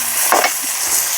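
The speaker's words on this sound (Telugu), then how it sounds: "నూనెలో అయితే ఉల్లిపాయలు మిరపకాయలు వేసి అటు ఇటు తిప్పేద్దాం" Onions and chilies sizzle in hot oil in a pan while being stirred, with a crackling fry and a couple of brief scraping stirs across a short moment.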